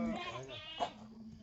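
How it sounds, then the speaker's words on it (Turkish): Sheep bleat on a farm in Burdur, Turkey, a short wavering cry heard under people talking nearby. "Ha, o koyun mu? Koyun koyun."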